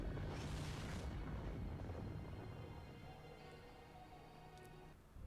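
A deep, rumbling explosion in the video game Code Lyoko: Quest for Infinity, a roaring blast at the start that fades into a long, low, fairly faint rumble.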